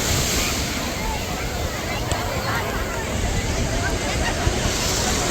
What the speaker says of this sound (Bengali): এই হচ্ছে এখন সমুদ্র